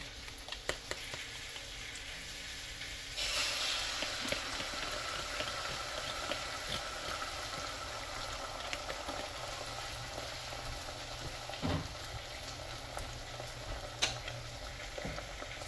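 An egg frying in a pan gives off a steady, close sizzle and bubbling hiss with occasional small pops and stirring clicks, and no one speaks over it.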